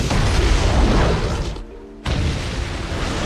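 A helicopter crashes into a hotel building in a film, setting off an explosion and a large fire. The blast is a loud, sustained roar that drops away briefly, then surges back.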